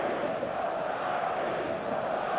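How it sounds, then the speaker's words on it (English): Stadium crowd noise from the football video game eFootball 2026, a steady dense roar of a full crowd that stays loud and even throughout with no clear cheers standing out. "The stadium is full of noise and energy."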